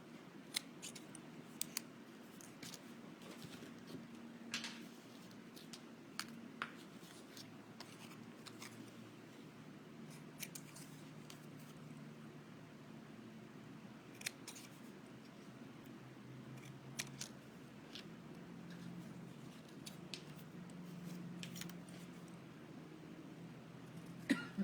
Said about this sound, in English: Cut out the little V shape at each end.